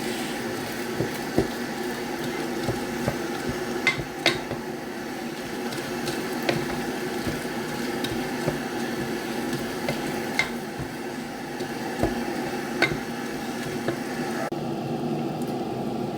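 Rice with vegetables and beef stirred in a pot, a steady close scraping and wet churning with repeated clacks of a spoon against the pot over a soft sizzle, no voices.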